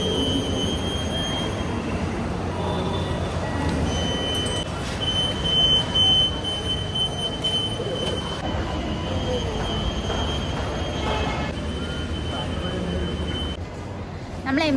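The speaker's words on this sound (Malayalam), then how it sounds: "അപ്പം നമ്മൾ എറണാകുളം റെയിൽവേ സ്റ്റേഷൻ റീച്ച് ആയിട്ടുണ്ട്." Train rolling through Ernakulam railway station in Kochi, a steady heavy rumble with faint squealing wheels and a thin alarm-like tone, people talking over the noise throughout.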